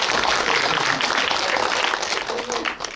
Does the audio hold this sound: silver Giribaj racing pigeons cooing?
no